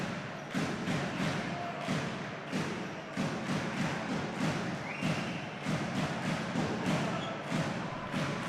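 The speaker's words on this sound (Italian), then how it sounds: "Intanto in sottofondo sentite i tamburi" Rhythmic drum thumps from the home supporters' section in a steady repeated pattern, heard from a distance amid crowd ambience at a Serie A match between Came Treviso and L84 Torino, with no clear talk.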